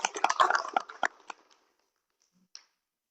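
A short burst of scattered applause from a classroom of students, crisp hand claps crowding together for about a second and a half before trailing off into quiet, with one faint clap afterward.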